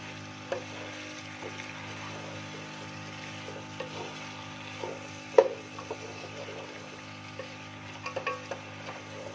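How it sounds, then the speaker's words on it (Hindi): Turnips sautéing in a pan, a soft steady sizzle running throughout with occasional scraping and tapping as they are stirred, quiet and close with no talk. "ये देखिए तकरीबन 5 मिनट हम इसकी बुनाई करेंगे।"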